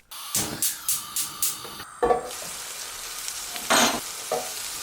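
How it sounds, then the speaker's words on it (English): Onions sizzling in butter in a pan, starting with a quick series of short stirring scrapes, then a steady hiss with a louder burst of frying near the end. "Throw your onions in, give them a sizzle"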